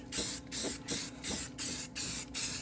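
Aerosol spray paint can hissing in seven short, even bursts with brief pauses between, close and loud, spraying a 3D-printed mask in a shop, no voices.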